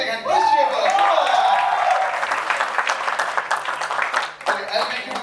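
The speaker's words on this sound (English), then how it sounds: "Give a big hand. Please cheer for her." An awards-show audience breaks into steady, loud applause with a rising whoop at the start, clapping thick and continuous before thinning slightly toward the end.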